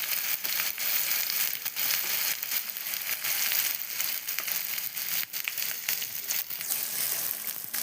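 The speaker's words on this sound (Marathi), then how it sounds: "जोपर्यंत मसाला व्यवस्थित तळत नाही तेलामध्ये तोपर्यंत लाल मिरची पावडर टाकायची." Masala spices fry in hot oil for an egg curry, giving a continuous crackling sizzle with irregular pops close to the pan. No one speaks over it.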